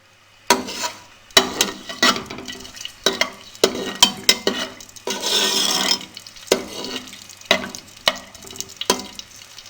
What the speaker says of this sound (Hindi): अब खड़े मसालों को हम 1 मिनट फ्राई करेंगे मीडियम फ्लेम पे